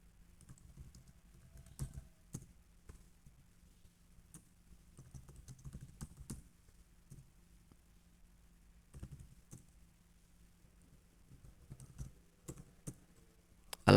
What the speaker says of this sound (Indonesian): kemudian kita ketik ini Deden Nur Arif Ius Nugroho